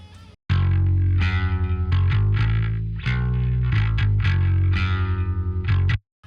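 A bass guitar runs through the Parallax amp simulator, giving a thick, distorted, compressed tone. A close series of punchy plucked notes plays alone, with no talking.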